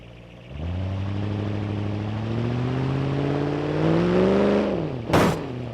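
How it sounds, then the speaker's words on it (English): A race car in the BeamNG racing game drives into victory lane, its engine droning steadily and rising in pitch as it revs up, then a sharp burst near the end, with no talk. "As he pulls his car up to victory lane."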